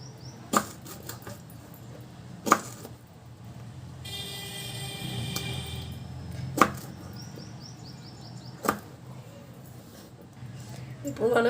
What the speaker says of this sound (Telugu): ఇప్పుడు చిన్న చిన్న ముక్కలుగా కట్ చేసుకుందామండి